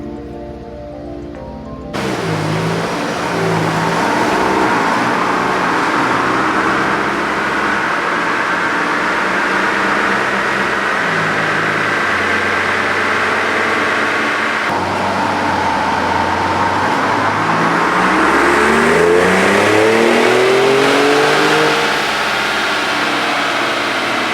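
Stock 2019 Ford Raptor Gen 2 on a chassis dyno, its engine climbing in a long, loud sustained rev with rising pitch over about twenty seconds, continuous and close, without speech.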